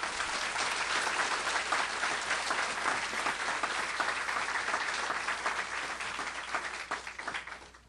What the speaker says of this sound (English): Let's give a big hand for all of our spellers.